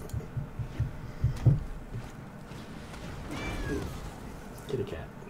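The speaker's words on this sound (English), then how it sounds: "Kitty cat." A cat meows once, a short rising-and-falling cry heard faintly against a muffled indoor background with scattered low thumps.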